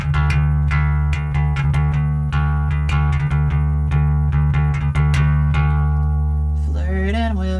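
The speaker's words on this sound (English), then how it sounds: "The bass comes in with that little technique." Bass guitar playing the intro technique from a song, a loud droning low note under rapid percussive plucked notes, ending with a brief sliding, wavering sound, with no talking.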